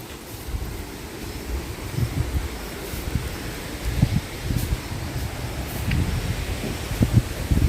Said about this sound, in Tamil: மழை இன்னும் வரல, பட் காற்று மட்டும் நல்லா அடிக்குது.